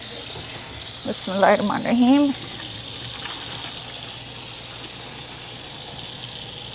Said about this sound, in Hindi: पानी खोलते हैं